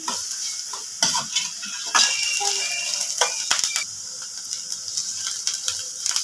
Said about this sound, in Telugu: కరివేపాకు వేసుకొని ఒక రెండు నిమిషాలు ఫ్రై చేసుకోవాలి